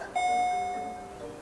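A doorbell chimes once indoors, a clear sustained electronic tone that rings out and slowly fades, with no talking over it.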